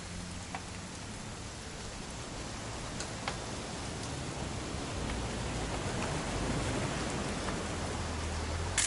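Steady rain in the video game What Remains of Edith Finch falls in a dense hiss, with occasional louder drops ticking through, growing slightly heavier toward the end.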